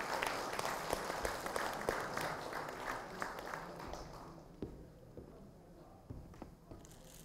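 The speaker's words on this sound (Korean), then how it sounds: "모두 뜨거운 환영의 박수를 표해 주시기 바랍니다." An audience at a Korean election campaign rally in Jinju applauds a candidate's entrance, a soft scattered patter of clapping heard at a distance that gradually thins out.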